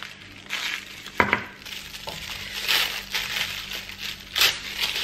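Cutlery wrapped in paper is unwrapped with soft crinkling and rustling, broken by a few sharp metallic clinks, all close and fairly quiet.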